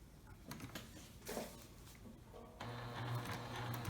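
A sewing machine stitches fabric for a lined tote bag, its steady motor whir starting partway through after a few faint clicks and handling noises, running evenly and close by.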